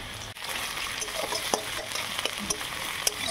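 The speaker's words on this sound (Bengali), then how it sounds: "তারপর সরষের তেলে পেঁয়াজ কুচিগুলি দিয়ে" Chopped onions fry in hot mustard oil with a continuous sizzling hiss, punctuated now and then by brief crackles and spatters.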